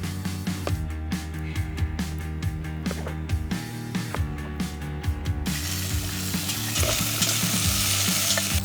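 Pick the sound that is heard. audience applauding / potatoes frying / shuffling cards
potatoes frying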